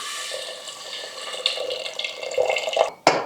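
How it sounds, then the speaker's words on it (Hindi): Water is poured onto soaked chana dal in a cooker, a close, bubbling splash that builds over a few seconds and then breaks off in a sharp final slosh. "अभी इसमें हम पानी मिलाएंगे।"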